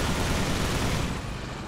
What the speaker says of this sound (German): Boah, überall explodiert's nur.